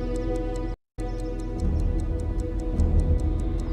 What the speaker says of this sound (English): Is it ticking?